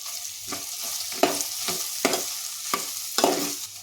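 A spoon stirring beetroot fry with chili powder in a hot pan, soft sizzling under five or six rhythmic scraping strokes spaced about half a second apart.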